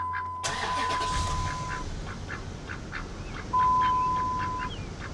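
A 2004 Ram 1500 truck engine cranks and catches with a sudden burst, then settles into a quiet, steady idle with a faint high tone running over it.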